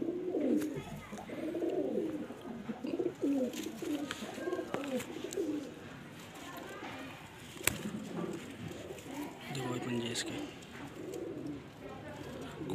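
Pigeons cooing in soft, repeated throaty rolls close by, steady through most of the stretch, with someone talking over them at times.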